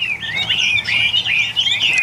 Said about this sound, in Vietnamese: Chim bắt đầu lên giọng hot hết rồi cả nhà ơi.